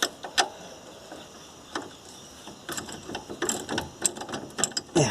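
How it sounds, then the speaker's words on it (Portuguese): Ratchet wrench clicking while working on the drivetrain of a Chevrolet Blazer/S10, a fast series of close, sharp ratcheting clicks in irregular bursts, growing busier toward the end with no talking. "Esse tipo de chave catraca, você paga um pouquinho mais caro, mas tem uma ferramenta excelente."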